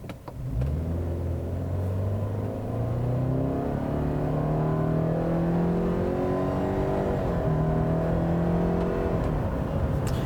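Engine of a 2017 Subaru Impreza 2.0i Limited pulling down the road from inside the car, a steady droning hum rising in pitch through several gear changes over road rumble, with no talking.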